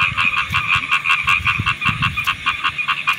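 Many frogs croak at night in an open field, forming a loud, dense chorus of rapid pulsing calls that carries on without a break and with no voices.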